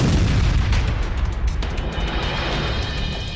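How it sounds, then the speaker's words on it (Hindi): A rocket strike exploding against a tank in combat footage from Rafah, a heavy rumbling boom that fills the start and then rolls off into a lingering low roar, loud and distant-sounding. "इसके बाद एक दूसरा रॉकेट एक अन्य टैंक पर फायर किया जाता है।"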